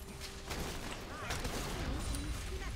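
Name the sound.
Heimerdinger W rockets firing in League of Legends video game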